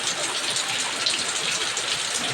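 Rainwater leaking through a house roof during heavy rain, a dense, steady hiss of falling and dripping water filling the space without pause.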